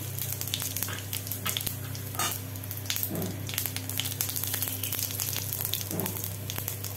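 Dried red chillies, bay leaf and white cumin crackle and sizzle steadily in hot oil for a shrimp curry tempering, a continuous close frying hiss with scattered small pops and a faint stir or two, no talking.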